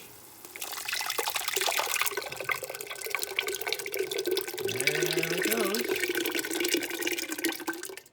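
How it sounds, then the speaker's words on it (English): Canned tomatoes pour steadily from a container into a pot of reduced wine being made into gravy, a continuous close splashing stream lasting several seconds; a voice speaks briefly during the pour. "what we're going to do now is we're going to add our tomatoes"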